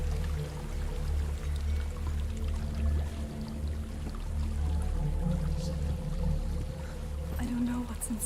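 A steady rushing waterfall pours continuously in the video game Hellblade: Senua's Sacrifice, a dense, even wash of falling water throughout with a faint low drone underneath.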